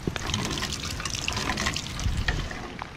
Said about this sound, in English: This morning, it is pouring down raining.